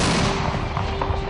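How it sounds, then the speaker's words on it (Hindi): Artillery cannon fire from the Kargil war rolls on as a dense, loud, continuous roar of booming, with no gaps or separate shots standing out. "हर तरफ तोप के गोलों की गूंज"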